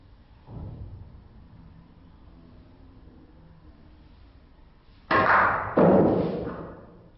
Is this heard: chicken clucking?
no